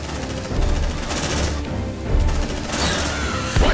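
Squad gunfire in Aliens: Dark Descent rattles almost without pause in dense automatic bursts, loud and close, punctuated by heavier cracks and crashes.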